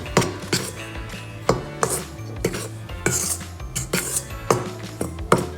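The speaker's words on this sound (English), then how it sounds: "in here I've just put the yeast in with the flour, so just give it a stir" Yeast and flour stirred in a bowl for focaccia dough, giving a run of close, irregular clinks and scrapes of a utensil against the bowl with no talking.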